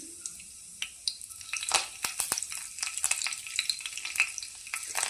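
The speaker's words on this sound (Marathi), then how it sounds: "तर तेल गरम झालेलं आहे त्याच्यामध्ये जिरा मोहरी टाकून घेऊया त्यानंतर बारीक केलेला लसूण" Cumin, mustard seeds and minced garlic dropped into hot oil, a close crackling sizzle with sharp pops and spatters that grow busier over the few seconds.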